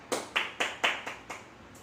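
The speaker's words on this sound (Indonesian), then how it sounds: "Tepuk tangan untuk Maisara." A small classroom group claps in a quick, even rhythm for a student during a chemistry lesson, about seven sharp, fairly close claps spaced evenly, with no talking.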